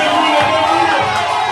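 Guests at a civil wedding cheer and shout with joy, a loud, close mix of excited voices and whoops filling the room in a brief, continuous burst.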